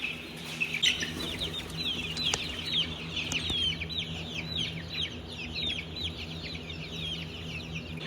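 Rare-breed chickens, including Barnevelders, Black Pomeranians and Coronation Sussex, cluck and chatter continuously in a coop, several birds calling close by in overlapping bursts.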